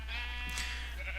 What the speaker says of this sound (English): Annabelle Lee brought up some of the sheep, and so we made a little pen for them